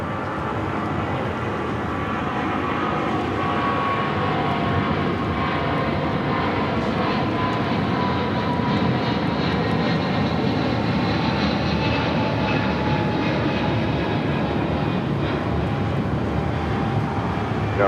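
Jet engines of a Boeing 777-200 bound for Honolulu at LAX give a loud, continuous roar that swells slightly and holds steady for the whole stretch, with no voices over it.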